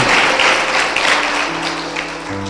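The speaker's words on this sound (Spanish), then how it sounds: "¿Cuánto le pueden dar un fuerte aplauso al Rey de los cielos?" Congregation applauding at a church service, a loud, continuous wash of clapping for a couple of seconds, with a sustained low musical tone entering beneath it toward the end.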